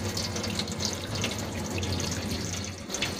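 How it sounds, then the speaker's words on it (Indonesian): Water splashes steadily over bean sprouts in a pot, a continuous close pouring sound like a running tap. "Nah, ini kita siram lagi ya"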